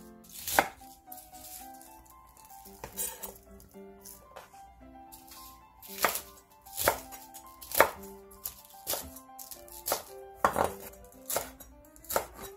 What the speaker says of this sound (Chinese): 洋葱， 大头菜我们准备一点就行，也是可以切成大块。